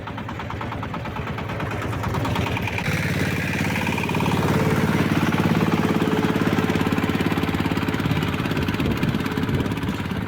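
Shifeng 240 mini tractor driving uphill on wet ground with the front-wheel drive disengaged, its engine a continuous loud rattling chug that grows heavier and louder midway and holds steady to the end, with no talk.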